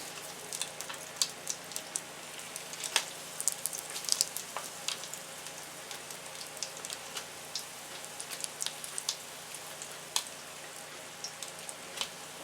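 Hot oil sizzles and crackles softly, with scattered sharp pops over a steady quiet hiss.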